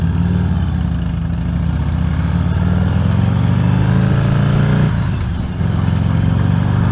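A motorcycle rides along a pothole-filled road in Michigan, its engine droning loudly and steadily under wind rush, with a brief dip in pitch near the end as the rider changes speed.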